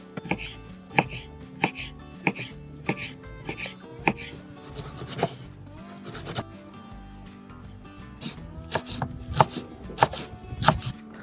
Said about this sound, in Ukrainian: Також мілко ріжемо, мілко ріжемо, все поєднує.